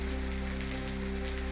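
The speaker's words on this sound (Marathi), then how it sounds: "धाराशिवच्या उमरगा तालुक्यातल्या कदेर परिसरामध्ये पाऊस" Steady rain falls in the Kader area of Umarga taluka in Dharashiv, a dense, constant wash of drops hitting surfaces up close with a low hum beneath it.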